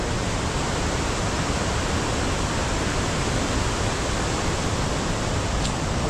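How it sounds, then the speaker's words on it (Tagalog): Steady, dense roar of the Popocville waterfall near Bokor Hill in Kampot, Cambodia, rushing without pause and filling the whole span at an even, fairly loud level, with no voices heard. "Nandito kami ngayon sa Popocville Waterfalls."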